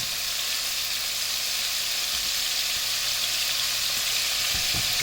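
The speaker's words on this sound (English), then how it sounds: "You want that beef to be sizzling, okay?" Beef sizzles loudly in hot oil with a constant crackling hiss, plus a few soft scraping knocks of tongs near the end.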